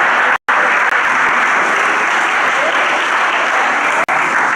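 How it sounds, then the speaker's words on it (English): An audience at a college event applauds two teams with steady, loud, close clapping that carries on without pause through a brief dropout near the start. "give them a round of applause"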